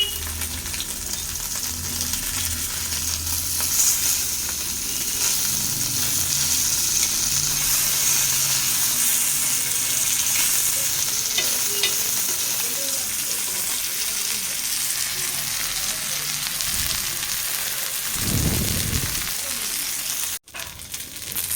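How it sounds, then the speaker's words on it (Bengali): Fish frying in hot oil in a pan in a home kitchen, a steady loud sizzle running throughout with occasional stirring and a splash of tap water near the end. "তো দেখো মাছটা লাল লাল করে ভেজে নিয়েছি"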